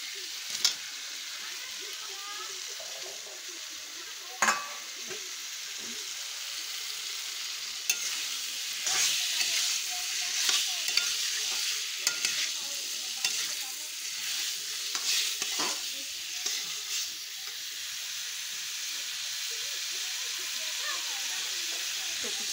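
Chopped kuchia eel fish is stir-fried in a pan, giving a constant bright sizzle with intermittent stirring scrapes and utensil knocks, fairly close and steady throughout.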